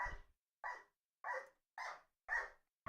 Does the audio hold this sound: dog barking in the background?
yes